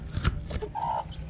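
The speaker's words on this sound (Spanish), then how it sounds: "Aquí tenemos gallinas. Dime que corocó. Mira el gallo blanco." Farm chickens and a white rooster cluck briefly and softly, a few short calls close by amid low outdoor background noise.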